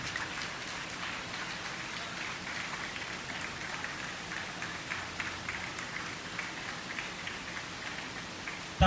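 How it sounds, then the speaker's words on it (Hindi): Steady, dense applause from an audience at a Kendriya Vidyalaya memento presentation ceremony in Bilaspur, a continuous even patter of many hands that holds at a moderate level throughout with no speech over it. "तालियां बजती रहनी चाहिए."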